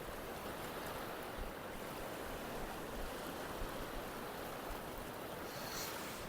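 Ocean waves roll in on a shoreline during a fishing trip, a steady broad wash of surf with wind, fairly distant and faint, continuing without pause.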